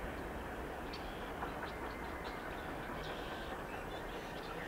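A freight train passes heading west on a line toward Rose Lake, Illinois, a steady, fairly quiet rumble that holds without a break throughout.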